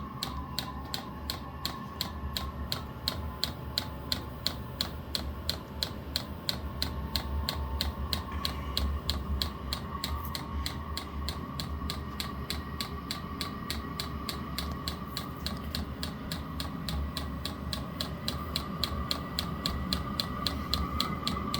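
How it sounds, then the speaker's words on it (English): Rapid, steady mechanical ticking repeats evenly throughout, a Vevor diesel heater's small fuel pump clicking over a constant low hum, fairly quiet and close. "you barely will hear that pump ticking at all"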